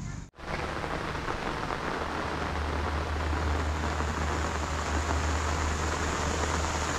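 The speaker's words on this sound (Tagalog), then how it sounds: "Malakas ang ulan." Heavy rain pouring down over a farm field of corn and beans, a loud constant roar of drops with a low rumble underneath, steady and close after a brief dip at the start.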